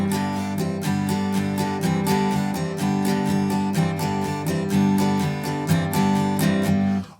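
Guitar in open G tuning strums a quick shuffle rhythm with brisk down-up strokes, repeating evenly and close up for several seconds without any voice.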